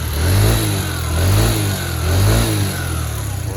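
2020 Peugeot Kisbee 4T scooter engine running close by, revving up three times in a slow rhythmic rise and fall before settling toward a steady idle.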